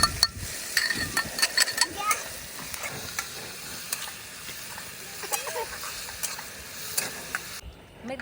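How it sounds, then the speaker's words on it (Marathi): Crushed green chili thecha frying in oil during outdoor village group cooking in the mountains, a soft continuous sizzle with frequent scraping stirs and clicks, voices faintly present in the background. "तेल पण टाकते ते आता ठेचा टाकते आणि तळून घेते"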